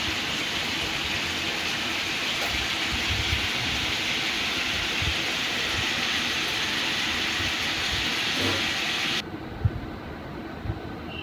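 Chicken pieces fry in hot oil in a home kitchen, a dense, even crackling sizzle that runs loud and unbroken, then drops abruptly near the end as a few faint clatters follow.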